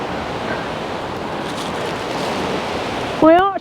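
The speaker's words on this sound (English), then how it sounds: "The wind is strong." Strong gusts of Storm Bert roar steadily against the microphone outdoors in a garden, a constant broadband buffeting throughout, with a brief voiced sound near the end.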